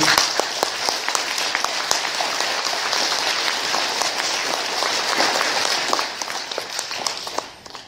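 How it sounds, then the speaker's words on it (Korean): A congregation at Mass gives the choir a steady round of applause, dense and close, sustained for several seconds before tapering off at the end. "박수 한번 쳐주세요."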